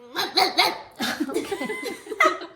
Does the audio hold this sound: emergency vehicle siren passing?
no